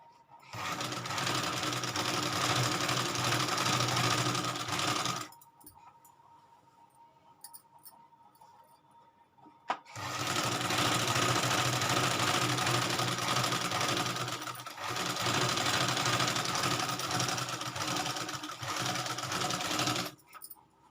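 Sewing machine stitching salwar fabric right along the edge of buckram, running in two long steady bursts with a quiet pause between, close and loud.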